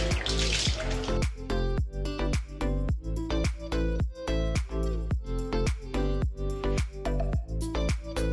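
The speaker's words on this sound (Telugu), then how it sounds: "2 times బాగా కడిగి మంచి నీళ్ళతో మళ్ళీ ఒకసారి కడిగి నానబెడతాను" Red lentils are rinsed in a pot of water, with a steady run of sloshing swishes and small splashes from grains and water churned by hand, close and fairly loud, with no talking.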